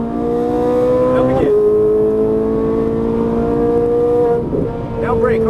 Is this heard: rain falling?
no